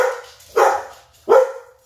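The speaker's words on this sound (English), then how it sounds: "Sorry about the barking." A dog indoors gives two loud, sharp barks about three-quarters of a second apart, each trailing off, with nothing else heard.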